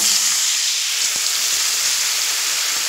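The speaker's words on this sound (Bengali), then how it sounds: "এবার দেখুন, এখানে দিয়ে দেব জল।" Water hits a hot pan of frying potatoes and vegetable stems, and a loud, even, close hiss of sizzling steam fills the whole stretch with no talk.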